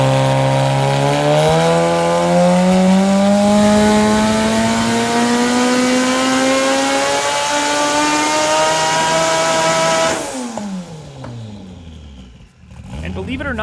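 A Ferrari with a swapped Honda K24 engine makes a full pull on a dyno up to a 9,500 rpm redline, a loud rising scream that climbs steadily for about ten seconds before cutting off sharply as the revs drop.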